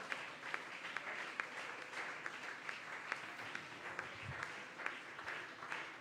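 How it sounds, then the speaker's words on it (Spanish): A church congregation applauds during a sermon, a soft, steady roll of many hands clapping in a reverberant hall, fairly distant with a few sharper claps popping out. "Dale ese aplauso al Rey de la Gloria en esta hora."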